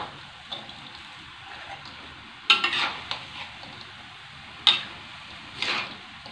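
Fried tempeh is stir-fried in a pan with chayote in a soy-sauce dish, giving a low sizzle under two sharp utensil scrapes and clatters against the pan.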